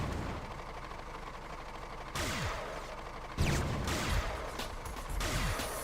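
Gunshots in the Spyro: Enter the Dragonfly video game strike a cliff, several sharp cracks at irregular intervals, each followed by a brief falling ricochet-like whine, over a steady hiss of game ambience.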